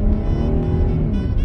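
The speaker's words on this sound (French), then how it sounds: "Parce que quand j'écrase la pédale, je ressens quand même un petit boost." A Hyundai Genesis with a large-displacement naturally aspirated six-cylinder engine accelerates under heavy throttle, a loud steady low engine drone heard from inside the car without talk.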